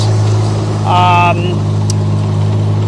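Kubota RTV-X1140 four-seat utility vehicle engine running steadily close by while reversing in low range, a low continuous drone with a brief rising whine in the middle.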